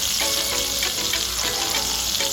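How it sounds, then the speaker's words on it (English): Steak sizzling in hot oil and butter in a cast iron pan on a stovetop, a loud, steady hiss and crackle running throughout with no pauses. "As soon as the oil is hot and sizzling, go ahead and put the steaks in."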